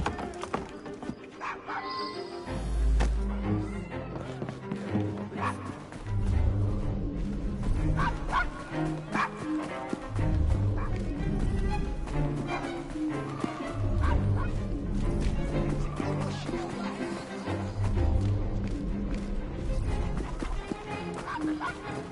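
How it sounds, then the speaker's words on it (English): A dog barks repeatedly in Assassin's Creed Syndicate, the yapping woofs mixed into a dense, loud game soundtrack with ambient clatter and what could be horse hooves. "Shut up, dog!"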